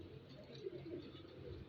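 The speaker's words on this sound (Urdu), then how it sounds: "اب آپ کو میں کبوتر دکھاتا ہوں بیٹا" Pigeons cooing softly in a loft, a few low rounded coos rising from a muffled background murmur, fairly faint and close.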